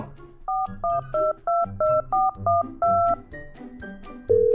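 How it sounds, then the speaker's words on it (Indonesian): A telephone number being dialed in an animated cartoon: eight evenly spaced touch-tone beeps in a quick rhythm, followed by a brief higher tone at the end, clear and close over a quiet background. "Kalau nggak percaya, sekarang saya telepon dia."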